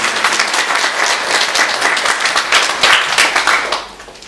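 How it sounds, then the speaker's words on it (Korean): A church congregation applauds the choir during a Sunday worship service, a dense burst of hand clapping from many people that holds steady for several seconds and then tapers off. "찬양대원들께 박수를 한번 드리겠습니다"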